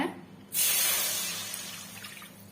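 Water poured into a cooking pot while making gooseberry halwa, starting abruptly with a loud rushing splash that stays steady and slowly tapers over a couple of seconds, heard close and alone.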